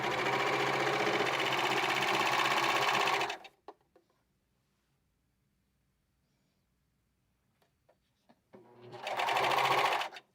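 A self-threading serger stitching fabric runs with a fast, steady whir for about three seconds, falls silent apart from a few small clicks, then starts up again near the end.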